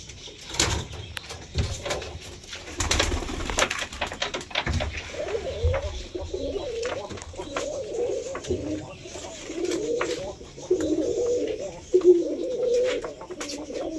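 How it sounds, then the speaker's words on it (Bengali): Pigeons cooing close by in rainy monsoon weather, with repeated throaty coos building through the latter half and a few scattered knocks and taps earlier on. "সব পায়রা এখন গাইস কেমন অ্যাক্টিভ আছে"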